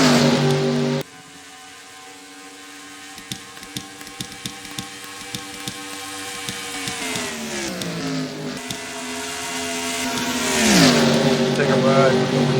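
Race cars in the NAPRA Holley HP Cup Series Can Am Duel roar past loudly with sustained engine drone, pitch dipping and rising as they pass, with brief clattering hits throughout and a commentator talking over the noise.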